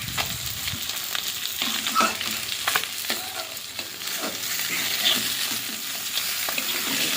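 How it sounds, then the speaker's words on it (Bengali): Bhola fish frying in oil in a wok, a strong continuous sizzle with repeated scraping and stirring clatter from a spatula, close and loud. "মাছগুলো সব ভেজে নেব।"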